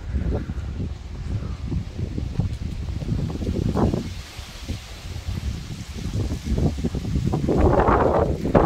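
A foehn south-wind storm gusts hard against the microphone, roaring in uneven, rumbling surges that swell and ease, with rustling and buffeting building loudest toward the end.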